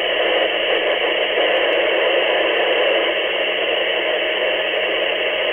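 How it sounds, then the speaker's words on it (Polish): A Yaesu FT-65 handheld radio with its squelch held closed puts out a steady, loud carrier hiss, unbroken and unchanging for the whole stretch with no voices. "Słychać nośną, blokada się nie otwiera."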